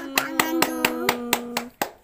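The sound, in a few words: hands clapping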